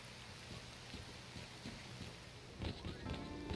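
Rain falls steadily in the S.T.A.L.K.E.R. Clear Sky game world, making a soft, continuous hiss with low rumbling swells that grow slightly louder near the end, all faint and without voices.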